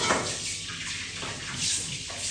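Hot metal dunked into cold water, giving a continuous close hiss and rushing gurgle of water for a couple of seconds.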